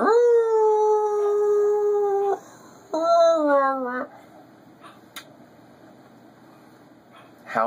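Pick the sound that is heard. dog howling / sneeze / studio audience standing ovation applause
dog howling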